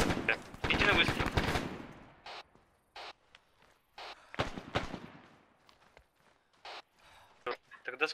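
Gunfire in the Arma 3 video game cracks out in a dense burst at first, then single shots and short pops spaced irregularly, with people talking over the radio between them.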